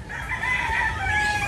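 A rooster crows in a drawn-out call close by at a rural spot, over low steady background noise.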